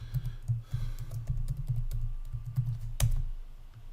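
Someone types a password on a computer keyboard with quick, close key taps in an uneven run, ending in one sharper, louder stroke near the end.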